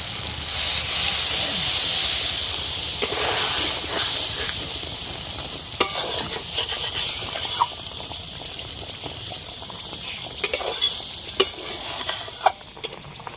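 Spiny gourd (kakrol) pieces stirred with spices in a hot pan, a steady sizzling hiss with scraping stirs that grow sparser toward the end, with no talk.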